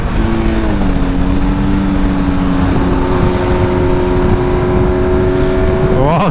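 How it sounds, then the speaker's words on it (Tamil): A Kawasaki Z900 motorcycle fitted with an LV full-system exhaust and quickshifter drones loudly at steady speed, with small pitch steps along the way and a sharp rising rev at the very end. "ஃப்ரெட்டோட வண்டி எக்ஸாஸ்ட் சவுண்டு Quickshifter மாஸ்."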